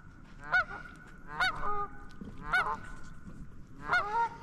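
Geese honk loudly outdoors in rural Appalachia, four distinct nasal calls spaced a second or so apart over a low background rumble.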